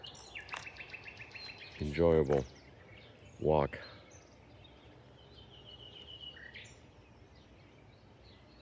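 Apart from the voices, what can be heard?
nightingale singing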